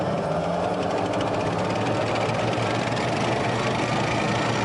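Armored Field Artillery Ammunition Support Vehicle, the FASV that resupplies the M109 howitzer, its engine running with a steady loud droning rumble and faint rapid mechanical chatter throughout.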